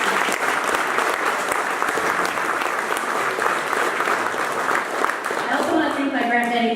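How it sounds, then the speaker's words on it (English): A community foundation celebration audience applauds grant recipients with steady, dense clapping that fills the room, loud and sustained throughout, with voices murmuring underneath and a speaker starting to talk as it ends. "So please give another round of applause to all of them."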